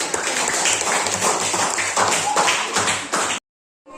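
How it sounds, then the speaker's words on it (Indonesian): A classroom of students claps for a presenting group, a busy flurry of close hand claps that stops abruptly, followed by a short gap of silence. "Ya, tepuk tangan buat kelompok."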